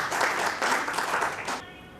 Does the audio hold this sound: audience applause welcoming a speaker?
yes